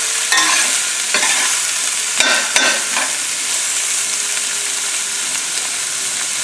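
Sliced sausage and peppers frying over high flame in a pan, a loud steady sizzle with clattering stirring strokes near the middle, close and continuous.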